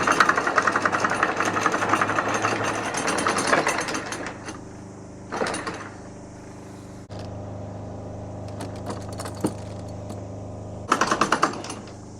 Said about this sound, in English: Generator's still running.